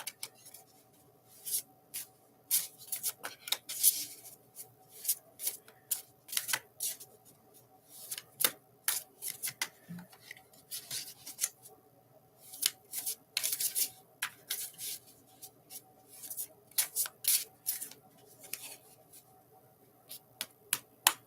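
Tarot cards being shuffled by hand, giving a steady run of crisp riffling and soft rubbing bursts over about twenty seconds, close and fairly quiet with no talking.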